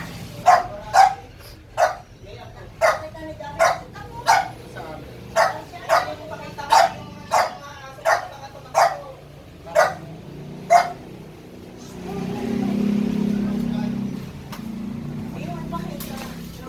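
A dog barks repeatedly in a steady series of about fifteen sharp barks, fairly close, then stops as a low rumbling noise takes over.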